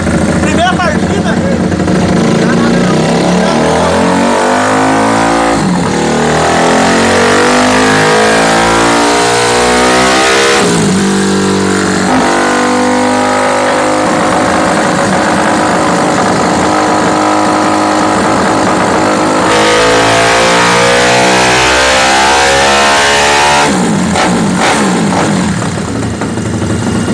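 A motorcycle runs on a dynamometer in third gear, its engine revving hard in repeated long climbing pulls, loud and close, the pitch rising and dropping between runs as voices talk underneath.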